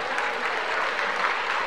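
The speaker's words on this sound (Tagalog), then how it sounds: "Ipalakpak sa Panginoon." A church congregation claps hands together during a sermon, a dense, steady patter of many palms filling the space without a break, close and fairly loud.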